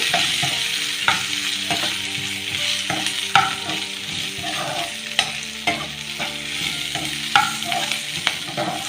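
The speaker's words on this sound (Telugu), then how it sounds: "ఇందులోనే చెదగొట్టుకున్న ఒక పెద్ద వెల్లుల్లి పచ్చివాసన పోయేదాకా వేయించుకున్నాం" A large crushed garlic is fried in a pan with a continuous sizzle, and a spatula scrapes and stirs in repeated strokes throughout.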